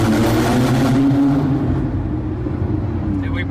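A Porsche 911 Turbo engine revs loudly while driving, a strong low growl that dips slightly as the throttle eases, with brief faint voices near the end.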